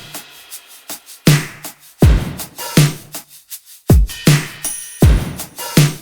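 A drum groove built from cymbal, shaker and tambourine loop samples, with a steady pattern of sharp hits and bright rattles repeating about every second, loud and close with no voices.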